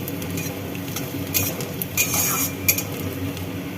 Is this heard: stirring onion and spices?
yes